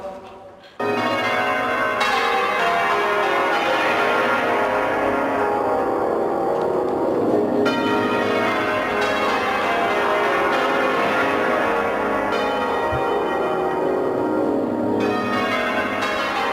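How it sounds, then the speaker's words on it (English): A full peal of thirteen cathedral church bells rung together, loud and continuous with overlapping strikes and rich ringing overtones, starting abruptly after a brief quiet and sustaining throughout with a reverberant echo. "I'm looking forward to hearing all 13 of these bells being rung together"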